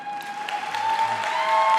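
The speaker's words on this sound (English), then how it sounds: "why did you all stop clapping?" Audience applause after a valedictory graduation address at Bishop's University, a brief burst of many hands clapping that holds steady and swells slightly toward the end, with no talking over it.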